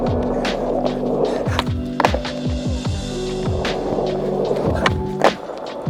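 Skateboard fitted with cheap Walmart wheels rolling and doing tricks, with a steady rolling rumble broken by several sharp clacks of the board hitting the ground.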